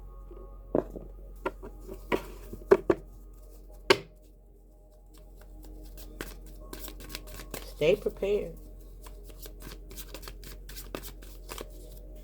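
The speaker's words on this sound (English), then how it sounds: "Dang, I shuffled the cards and that came right back." A deck of tarot cards shuffled in quick rustling, snapping bursts at close range, scattered among a person's speaking voice.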